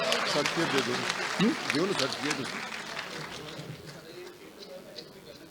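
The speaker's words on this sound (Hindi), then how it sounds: "ओ दबा के तालियां मारो" Audience applause at the Pakistan Gakhar Talent Awards ceremony: steady clapping at moderate distance, with a voice talking over it that fades as the clapping tapers off.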